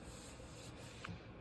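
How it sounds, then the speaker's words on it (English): Sanding on a Yamaha Raptor 700 ATV gives a steady, close, rough rubbing hiss that stays even and continuous, with no voices. "Tried doing a little wet sanding too,"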